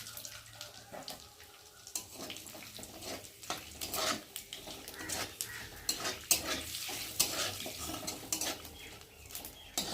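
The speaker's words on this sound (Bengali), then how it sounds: "আর এখন আমি ফোড়নে দিয়ে দেবো তেজপাতা, আর দিয়ে দেবো গরম মশলা, এলাচ, দারচিনি, আর দিয়ে দেবো গোটা জিরে।" Whole spices (bay leaf, garam masala, cardamom, cinnamon and cumin) frying in hot oil, a crackling sizzle with irregular stirring clatters and utensil knocks against the pan.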